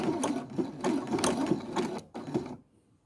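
Sewing machine stitching a bar tack on a pocket edge: quick bursts of rapid mechanical whirring and needle clatter with short pauses between, close and clear, ending abruptly in silence.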